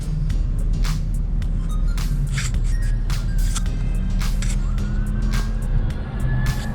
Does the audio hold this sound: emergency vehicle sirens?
yes